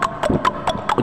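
Horse hooves clip-clop in a steady, even rhythm, about five distinct strikes in a second, close and fairly loud with no voices.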